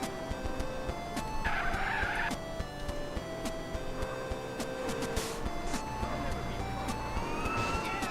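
Car driving in GTA San Andreas, with tyres skidding and squealing amid engine noise and a siren-like wail, fairly loud and continuous over several seconds.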